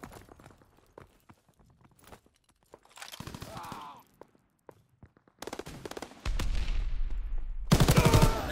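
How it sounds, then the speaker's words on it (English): Machine gun fire from an aircraft strafing run in Call of Duty: WWII, beginning as scattered distant shots and short bursts, then building to loud, sustained rapid fire with a roaring pass near the end. "Strafing run inbound."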